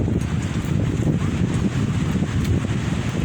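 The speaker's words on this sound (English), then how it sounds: "My tent being blown in the wind here." Strong wind buffets a tent under a severe thunderstorm warning, a steady loud roar with low gusty rumbling and flapping, close and continuous with no talking.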